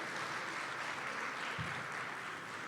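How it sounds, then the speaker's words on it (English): Steady applause from a conference audience at a New Jersey Black executive plenary session, honoring Dr. Finney; a broad, even wash of clapping that holds at moderate level throughout with no break. "we need to give her another round of applause for Dr."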